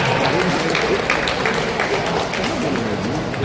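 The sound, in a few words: audience applause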